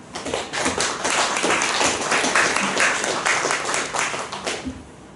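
Church congregation clapping together during a Sunday worship service, a steady dense wash of many hands that holds for the whole stretch at moderate loudness, with no talking over it.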